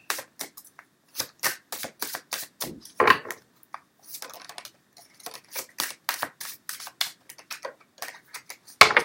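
Tarot cards being shuffled and pulled from the deck, quick crisp riffles and flicks arriving in short irregular bursts, close and fairly quiet, with no talking.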